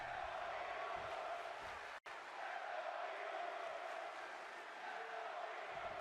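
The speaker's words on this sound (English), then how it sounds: "Now let's go Io chant emanating from the crowd" A wrestling crowd at an indie ironman match chants together for the wrestler Io, a steady broad roar of many voices that fills the hall. A brief dropout breaks the sound near the two-second mark.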